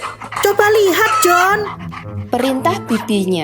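Puppies pant softly in quick breathy bursts beneath a narrator's steady storytelling voice, with a person speaking throughout.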